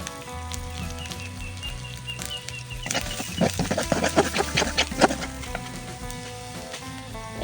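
Kuchia fish, coated in turmeric, drops into hot oil in a pan and sets off a loud, crackling sizzle that swells in the middle and then settles into a steady fry, over a low background hum.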